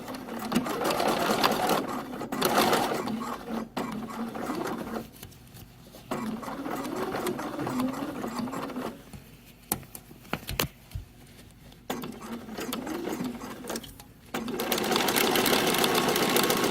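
A sewing machine stitches a shirt neck band at a 5/8 inch seam, running in steady close bursts with brief pauses between runs, fairly loud and with no talk over it.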